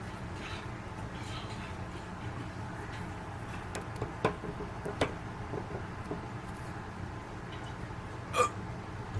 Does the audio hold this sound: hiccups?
yes